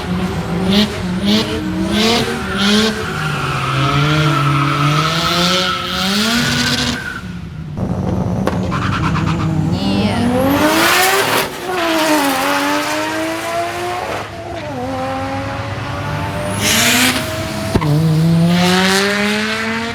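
An RB25DET-powered Nissan 180SX and a single-turbo Mazda FD RX-7 launching at a drag strip, engines revving and rising through gears with tire squeal, loud and close, followed by more runs.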